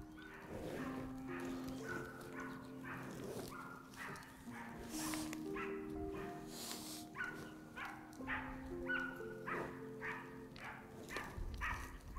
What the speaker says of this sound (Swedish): Hundarna driver för fullt.